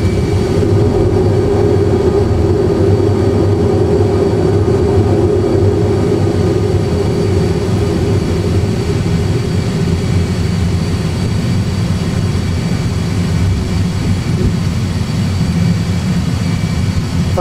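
Airliner engines roar steadily at high power while climbing out after takeoff with the landing gear retracting, a loud continuous low rumble and broadband whoosh filling the whole stretch with no talk.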